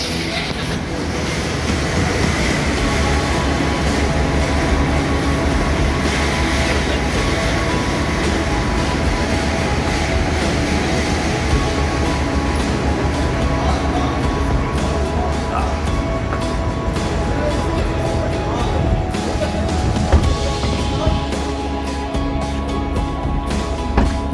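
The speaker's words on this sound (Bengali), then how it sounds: "এক নম্বর প্ল্যাটফর্মে আমাদের ট্রেন" A train stands at platform one of a railway station on the Dhaka to Calcutta route, giving a steady, loud rumble and hum with no pauses across the whole stretch.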